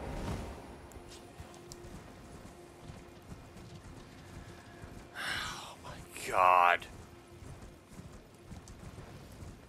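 In the video game Elden Ring, a horse's hooves clip-clop in a steady, soft rhythm beneath quiet game ambience, with a short breathy burst and a brief spoken exclamation near the end.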